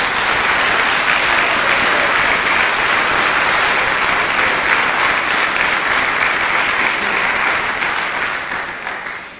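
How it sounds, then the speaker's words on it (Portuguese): A church congregation claps together in dense, sustained applause, loud and even across the room before tapering off at the end, with no voices standing out above it. "Uma salva de palmas a Jesus."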